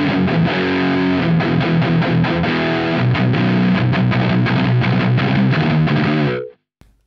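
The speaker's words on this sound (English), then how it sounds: "So let's try with some more distortion." Electric guitar played through a Boss Mega Distortion pedal with the gain turned up toward two o'clock, loud saturated fuzzy chords ringing steadily before being cut off abruptly near the end.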